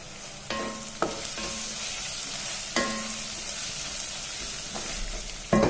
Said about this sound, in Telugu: చూడండి అల్లం వెల్లుల్లి కూడా బాగా ఫ్రై అయిపోయింది చూసారా